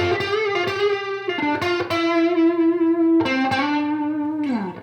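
A blues lick on electric guitar that mixes the Dorian mode with the blues scale: quick picked notes, slides and bends with a mildly overdriven, reverberant tone, close and alone with no talking.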